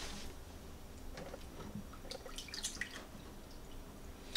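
Distilled water poured from a measuring cup into a container, a faint run of dripping and splashing trickles with a few brighter drops near the end, quiet and close.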